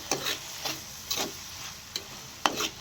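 Cabbage poriyal with coconut stirred in a pan, a series of quick scraping strokes of a spatula in a steady rhythm over a faint background sizzle, quiet and close.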